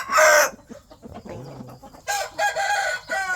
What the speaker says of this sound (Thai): กำลังสู้ไก่นะครับ